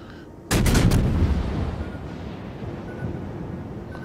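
Heavy warship cannon fire in a naval battle game: a loud booming salvo of several rapid shots bursts out suddenly, then rumbles and decays slowly into low ambient noise.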